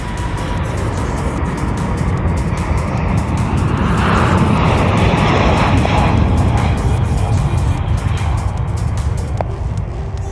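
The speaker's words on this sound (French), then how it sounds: "il se met en phase de décollage. Là, il est en train d'accélérer de ouf." Airplane at a Paris airport accelerates for takeoff, its jet engines building into a loud, steady roar that swells and stays constant, heard from nearby with a faint rhythmic ticking on top.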